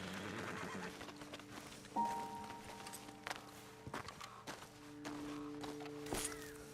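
Horses in the Red Dead Redemption video game snort and whinny amid soft hoof steps and shuffling, fairly close and moderately quiet over a low outdoor ambience.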